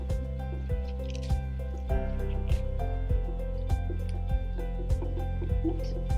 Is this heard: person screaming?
no